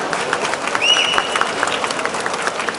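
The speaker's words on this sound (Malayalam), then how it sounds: "അതിനും ഒരു വലിയ കയ്യടി നിങ്ങൾ പ്ലീസ്" An audience at a film date-announcement event for ARM breaks into a burst of clapping, a busy patter of many hands with a sharp whistle cutting through near the start.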